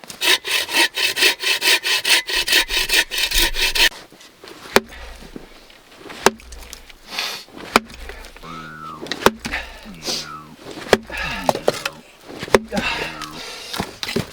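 A hand saw rasps back and forth through a knotty log for firewood at a winter bushcraft camp, loud rhythmic strokes for several seconds, then scattered knocks, clunks and handling noises with brief human sounds.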